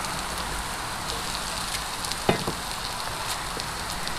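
Chopped onions, carrots and celery hitting a hot soup pot for chicken noodle soup, giving a steady, even sizzle with a brief clatter partway through, close and unbroken, with no talk.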